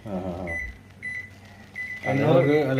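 An IFB 30BRC2 convection microwave oven gives a steady tone and low hum while it starts up. Someone talks before and after over the running unit.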